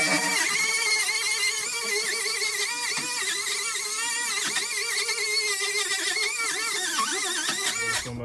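An angle grinder works metal on a Crown Vic police car roof being patched, giving a continuous, loud, high-pitched whine and screech that stays steady for several seconds before stopping at the end.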